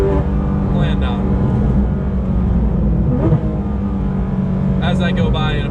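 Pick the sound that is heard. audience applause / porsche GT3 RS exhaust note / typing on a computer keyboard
porsche GT3 RS exhaust note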